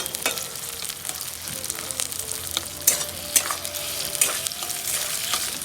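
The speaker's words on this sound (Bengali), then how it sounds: "এই যে পেঁয়াজটা লাল লাল ভাজা হয়ে গেছে" Chopped onions sizzle steadily in a hot pan while a utensil stirs them, scraping and clinking against the metal in occasional sharp knocks.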